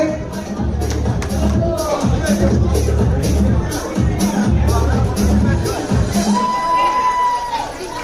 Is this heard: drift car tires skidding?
no